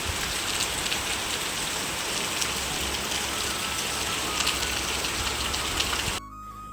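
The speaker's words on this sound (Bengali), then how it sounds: "যাক বৃষ্টিটা হয়ে একটু ভালোই হলো একটু ঠান্ডা হবে ওয়েদারটা" Steady, dense rain pours down onto outdoor stairs, a close continuous hiss of drops splashing on the steps with no talk, cutting off abruptly near the end to a quieter background.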